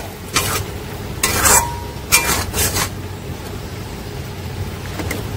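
Spice paste for a mutton curry, with green chillies, is stirred and fried in a wok. Bursts of spatula scraping and hot sizzling come in several strokes, close and fairly loud, over a steady low background hiss, with no talking.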